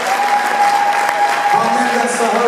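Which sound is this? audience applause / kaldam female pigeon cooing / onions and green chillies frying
audience applause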